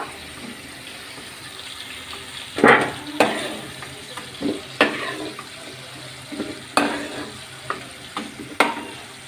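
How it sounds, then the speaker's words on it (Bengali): Potato pieces frying in hot oil for a mutton kosha, a steady low sizzle broken by sharp scraping and clattering knocks of a spoon lifting and stirring them, close and fairly loud, with no talking. "আলুগুলো ভেজে নিয়েছি, এগুলো এখন তুলে নিব।"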